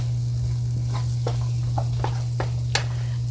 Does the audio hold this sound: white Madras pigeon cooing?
no